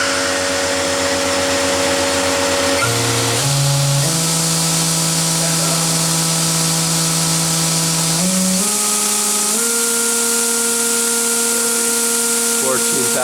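A Fanuc Robodrill Alpha-T21iD vertical machining center spindle runs up, its loud, steady whine climbing in pitch in several distinct steps over about thirteen seconds.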